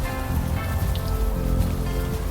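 Steady rain pours in the adventure game Unavowed, a dense even patter on surfaces with a soft tonal music bed underneath, continuous and close with no voices.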